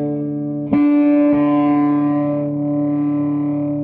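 A guitar note is struck and rings as a sustained low drone through a TWA Triskelion resonance pedal, the D string heavily boosted, with a second strike blending in and a shimmering effect coloring the tone.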